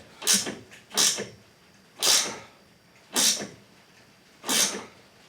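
Ratchet wrench tightening a light bar mounting bolt on a Honda Pioneer 1000 utility vehicle, five separate creaking, rasping strokes spaced about a second apart, close and fairly loud.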